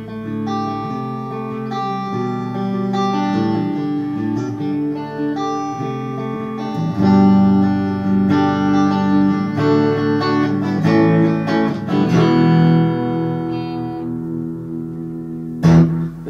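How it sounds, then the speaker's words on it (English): A clean electric guitar through an MXR Carbon Copy delay pedal, delay time low and mix about a quarter, plays sustained chords and melodic lines with a subtle echo trailing each note, steady and fairly loud, ending in a brief strum. "This is what it sounds like with the delay turned right down and the mix about a quarter in."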